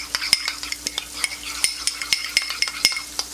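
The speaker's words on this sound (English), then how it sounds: "Next, we're going to mix it up." A spoon briskly whisks a mustard-based veggie burger sauce in a bowl, producing rapid, rhythmic clinks and taps close up with no voices.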